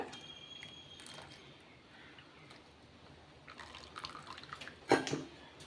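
Sugar syrup is filtered and poured into a pan for a sweet made with flattened rice (poha), giving faint liquid dripping and trickling that grows into a short splashing pour near the end.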